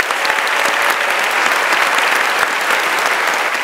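Dense, loud applause from an audience greeting the innovation award finalists at the True Innovation Awards final, a steady wash of many hands clapping throughout.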